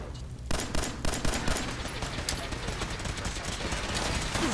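Heavy weapon fire in Fallout 4 comes as a dense stream of rapid shots that starts abruptly and keeps going. Booming impacts sit in the mix, loud and close, with no speech over it.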